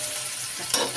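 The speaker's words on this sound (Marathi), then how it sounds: "एकदम छान चरचरीत भाजून येते बघा" Egg bhurji with onion fries on a flat iron griddle, giving a short, steady, close crackling sizzle with a brief scrape near the end and no voices.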